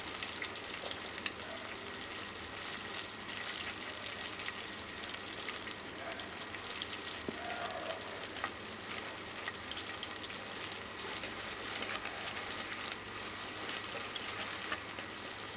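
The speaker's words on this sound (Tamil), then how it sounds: "வெங்காயம் நல்லா வதங்கணும்." Sambar shallots and curry leaves sautéing in oil for Tamil fish curry, a dense, steady crackling sizzle like light rain, fairly quiet and close, without speech.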